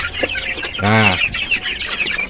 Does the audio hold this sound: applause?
no